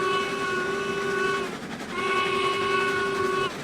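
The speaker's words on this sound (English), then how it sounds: "Now you actually can play around with the whistles." A steam locomotive whistle in the RailRoads Online train game sounds loud and close in two long harmonic blasts, the first about one and a half seconds, a brief pause, then a second longer one, with no talk.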